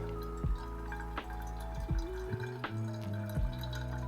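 Water is poured over coffee grounds in a Kalita Wave 155 pour-over brewer, a quiet close trickle with soft drips and gurgles and glassy ringing tones shifting in pitch as the vessel fills.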